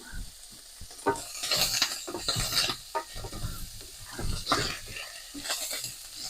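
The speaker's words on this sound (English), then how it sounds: "give the bacon another stir" Bacon crackles and sizzles in oil in a pan as it is stirred, with close scraping strokes and bursts of spatter rising and falling across a few seconds, for a carbonara.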